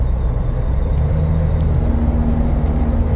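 A Jeep JK with a 3.6L engine and 8-speed transmission cruises at highway speed around 2500 RPM, a steady low engine drone under road and wind noise, with a faint hum shifting pitch midway.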